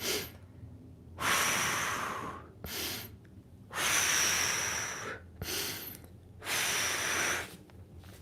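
Deep, forceful breaths from a person holding a lower-body stretch on the floor during a splits workout: four loud, airy inhale and exhale bursts of uneven length, close to the mic, with short quiet gaps between them.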